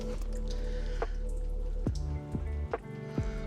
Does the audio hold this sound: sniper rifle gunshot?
no